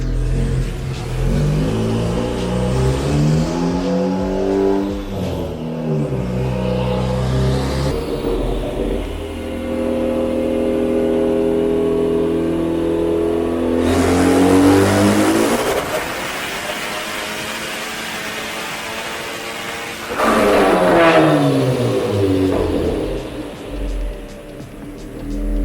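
A Honda K20C1 engine in an AE86R climbs through repeated rising revs on a dyno during an ECU tuning pull, loud and close, with gear-like sweeps, sharp high-rpm wails and brief drops between pulls.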